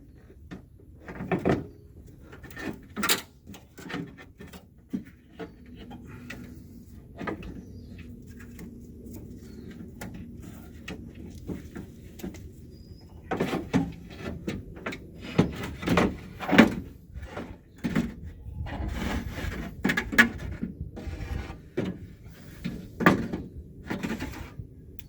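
Original factory power window glass on a Chevelle is lowered and pushed off its regulator, giving irregular thumps, knocks and scraping clatters with quieter handling noise between, close and moderately loud, no talking.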